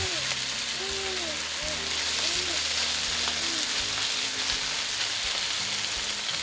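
Moose meat frying in a single layer in a very hot pan, giving a steady, even sizzle that continues throughout at moderate level, with faint tonal background sounds and no clear talk.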